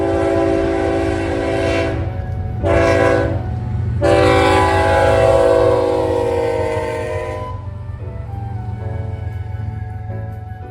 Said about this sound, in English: This time it was a Q-stack intermodal with nothing but GEVOs.